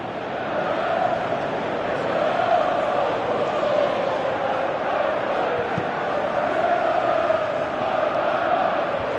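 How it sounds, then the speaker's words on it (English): Football stadium crowd at a Chelsea match, a steady dense roar of many voices that swells and eases without letup, with no clear speech over it. "you can feel and hear how the crowd are reacting to all of this"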